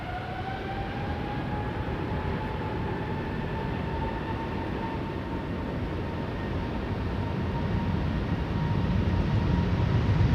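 KLM airliner bound for Sao Paulo taking off from the Polderbaan runway at Amsterdam Schiphol, a steady loud jet roar with sustained engine whine, growing slightly louder toward the end.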